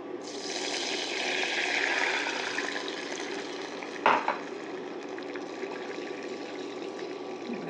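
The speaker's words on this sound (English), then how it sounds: "And then we add our liquid." Liquid poured into a cooking pot of seasoned ingredients for stuffed cucumbers, a steady broadband rush for about three seconds that eases into a softer trickle, broken by one brief clink near the middle.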